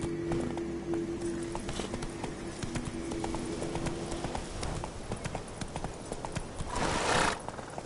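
A horse galloping in The Witcher 3, with a steady clip-clop of hooves throughout, a neigh early on, and a louder rush of movement near the end.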